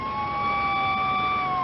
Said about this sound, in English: We hear the siren, loud, real loud, right there.